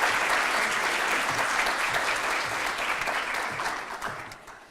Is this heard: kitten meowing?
no